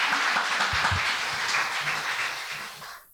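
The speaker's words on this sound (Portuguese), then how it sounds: "dá uma salva de palmas para Jesus." A church congregation claps in praise for Jesus, a broad steady wash of applause that fades out at the end, with a few low thumps near the start.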